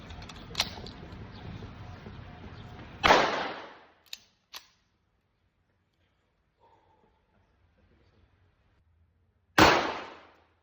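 Arrows shot in quick succession at a target during an archery set, giving two sharp, loud impacts about six seconds apart with a few small clicks between them and quiet in the gaps.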